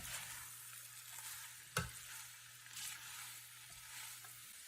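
Gluten-free Indonesian bami goreng noodles mixed in a pot, giving a quiet, steady sizzle with one sharp utensil clack and soft stirring scrapes, and no talking.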